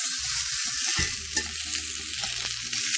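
Fat band of a thick sous vide pork chop pressed face down to sear in a hot pan, giving a steady, bright sizzle close by with a few soft bumps, no talking.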